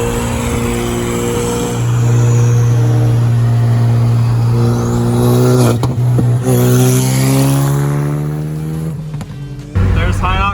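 Cars drive along a road in the Detroit area during a car cruise, engines droning and revving with rising pitch as vehicles pass close by, loud and sustained, with people talking over them.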